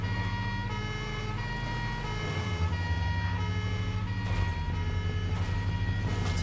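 Police car sirens from the driving game Midtown Madness 2 wail loudly and steadily in layered, overlapping tones as two patrol cars give chase, with an engine droning underneath.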